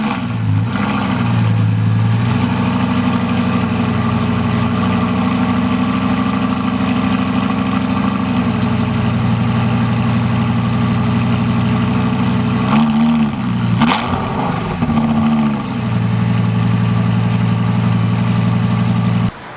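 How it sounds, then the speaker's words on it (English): A Lamborghini Gallardo's engine idles steadily and loudly up close, with a deep, even drone and a couple of brief throttle blips partway through, no talking over it. "it's a pretty cool sounding engine too."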